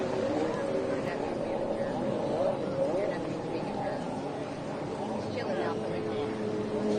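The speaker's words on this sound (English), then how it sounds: "Got that loud aluminum exhaust on that 550 Reed SX." A 550 Reed SX stand-up jet ski with a loud aluminum exhaust runs on open water at West Tawakoni Park, Texas, its steady engine drone buzzing continuously through the clip while a commentator talks over it.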